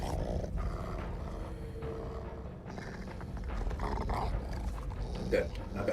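A dog growls in the Dead by Daylight video game, a low, rough rumble running steadily under dense game noise and a man's speech.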